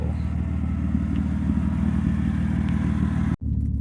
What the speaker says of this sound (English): the audio is going to be horrible with my exhaust the way it is, being cut off right at the cats